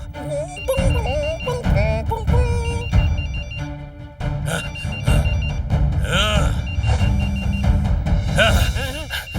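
A voice imitates a mobile phone ringtone by mouth, producing a steady, loud warbling electronic-style ring that runs continuously, close up and without pauses.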